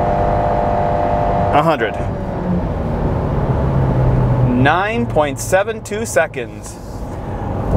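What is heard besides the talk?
2021 Subaru Impreza accelerating at full throttle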